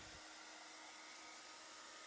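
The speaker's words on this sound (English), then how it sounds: "So we should get to work with the hairdryer and blend these effects while the resin is still fluid." A hair dryer blows with a steady, continuous whooshing roar, close and fairly loud, with no talking, used to blend effects in still-fluid epoxy resin on a decorative worktop.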